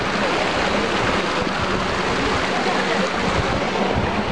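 A waterfall at Plitvice Lakes in Croatia: a constant, loud rush of falling water fills the air, a dense roar that doesn't let up.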